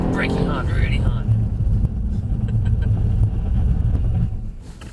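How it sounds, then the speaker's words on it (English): A Mercedes-Benz AMG car braking hard on a track, its engine roaring and rumbling loudly from inside the cabin while a person talks over it. "We're going to leave it late this time. Braking hard, really hard."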